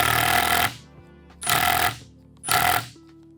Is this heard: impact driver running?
yes